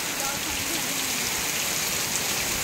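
Heavy rain pours steadily and loudly, a dense continuous hiss of water drumming on surfaces throughout, with no clear voices over it.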